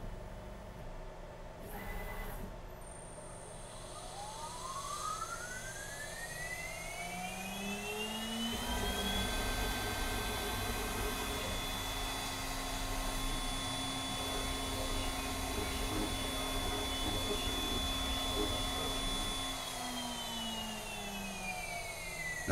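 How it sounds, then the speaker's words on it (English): A RapidChange automatic tool changer on a Onefinity Pro CNC swaps tools, its spindle whining up to a steady high pitch, holding, then winding back down, with a constant motor hum underneath and no talking. "Just demonstrating how it changes tools."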